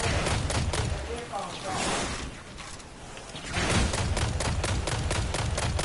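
Rapid gunfire from enemies in the Destiny video game, with dense bursts of shots continuing almost throughout, briefly easing in the middle before resuming loud and close.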